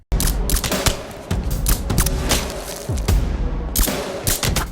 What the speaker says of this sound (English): That suppressor is way too quiet.